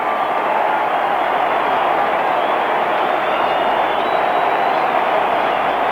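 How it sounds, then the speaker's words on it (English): Dense, continuous crowd roar and applause filling a large football stadium after the 1991 grand final at VFL Park, Hawthorn against West Coast, heard as a steady wash of noise on an old radio broadcast. "Applause for Simon."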